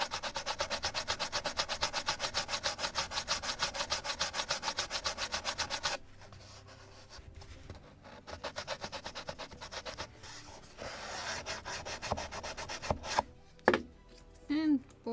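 Dried glue is scraped and sanded off wooden model planks on a 1776 gunboat Philadelphia model, first a steady rhythmic back-and-forth rubbing for several seconds, then quieter irregular scratches and small taps.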